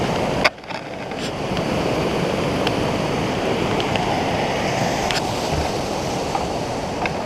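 A waterfall along a Mt. Whitney hike in the Sierra, its steady broadband rush of falling water close and loud, filling the scene continuously after a brief thump at the start, with no voices.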